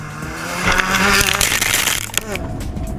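A Subaru Impreza rally car launches from the start of a rally stage, its engine revving loud and close in a rising, rasping burst, with a commentator talking over it.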